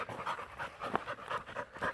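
A dog pants close by in quick, rhythmic breaths outdoors during a hunt for elk sheds, with no talk over it.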